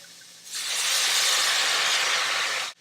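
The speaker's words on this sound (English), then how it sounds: "now we're gonna deglaze the pan with some wine" Wine poured into a hot pan of browned chicken to deglaze it sets off a loud, steady steam hiss that starts abruptly, holds for about two seconds, then cuts off.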